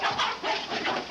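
Chickens panicking inside their coop as someone enters, a dense, continuous burst of agitated clucking and squawking from many birds at close range, with no talk.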